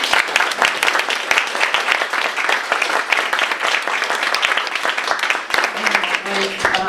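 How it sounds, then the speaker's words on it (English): An audience at a panel discussion on the IMF gives a round of applause, a steady, moderately loud patter of many hands clapping in a hall. "Let's give them a round of applause."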